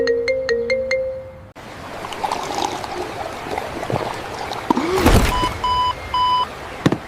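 A phone ringtone plays first, then a wallet tracker, rung from a phone, gives out repeated electronic beeps over the trickle and splash of a waterpark, the beeps steady and moderately loud.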